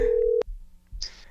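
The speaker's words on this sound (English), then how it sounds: "Let's get Lenny on the phone right now." A steady telephone tone ends abruptly in a click. Faint line noise follows as the call connects, with no talking.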